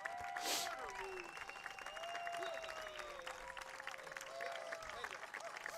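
A crowd at a high school boys soccer game gives faint, distant, sustained applause as the seniors come off the field, with scattered voices and cheers mixed in.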